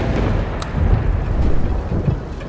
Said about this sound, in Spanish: Una tormenta.